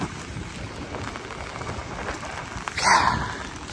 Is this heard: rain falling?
yes